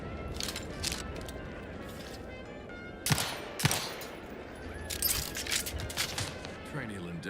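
Gunfire crackles at shooting practice in The Outer Worlds 2, with a few sharp shots standing out among lighter pops. Game voices talk over it throughout.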